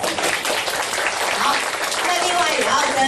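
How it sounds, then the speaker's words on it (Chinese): Audience applause welcoming first-time visitors at a public weekend science square event, steady dense clapping from a crowd filling the whole moment, with some voices mixed in. "我们鼓掌欢迎你们来。"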